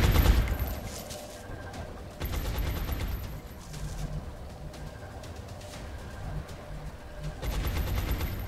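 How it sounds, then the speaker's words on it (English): Suppressing gunfire in XCOM: Enemy Within, a loud sustained rattle of automatic bursts layered with game sound effects, continuous and close with no talking. "Suppressing fire on target."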